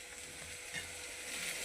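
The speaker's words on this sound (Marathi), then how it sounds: "तेल गरम झालेलं आहे, त्यामध्ये जिरे टाकणार आहे।" Cumin seeds sizzle in hot oil in a heated kadhai, a faint, steady crackling hiss that holds without a break, with no talking.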